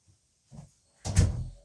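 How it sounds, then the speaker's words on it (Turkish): Indoors, a door is pushed shut: a faint soft knock, then a louder close thud with a brief rattle, near and otherwise quiet. "Ben kapıyı kapatayım biri gelirse."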